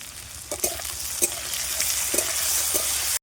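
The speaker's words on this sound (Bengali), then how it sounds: "আলু আর কাঁঠাল দানাটা লাল লাল হয়ে ভাজা হয়ে গেছে" Potatoes and jackfruit seeds fry in a pan with a steady, loud hiss and sizzle, broken by a few sharp scrapes and knocks of stirring.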